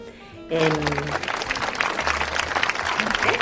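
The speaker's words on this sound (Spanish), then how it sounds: "Con público que aplaude y todo." Studio audience applauding during a Spanish-language morning television show, dense steady clapping bursting in suddenly after a brief moment of music and continuing at a fairly loud, even level.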